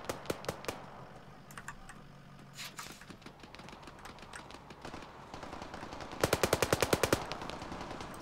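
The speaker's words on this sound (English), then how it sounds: "They're in a heavy firefight." Heavy gunfire in the video game Arma 3, on a night rescue mission in Fallujah: sharp automatic bursts and single shots, with a long, loud rapid burst near the end. No one speaks.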